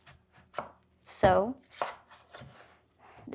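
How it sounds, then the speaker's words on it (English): A knife cuts through a potato on a board with a few distinct, close chops, spaced out by pauses and a brief voice. "now we're gonna start chopping the potato"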